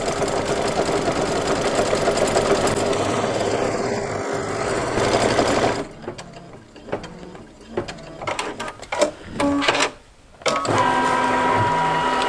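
Multi-needle embroidery machine stitching a quilt piecing template, a rapid steady mechanical whirring and clatter for about six seconds, followed by intermittent clunks, clicks and short motor runs as it repositions.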